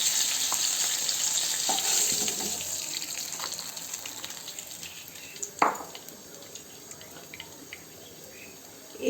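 Hilsa fish heads fry in oil with a continuous close sizzle and crackle, fading a little over time, broken by a sharp clatter near the middle.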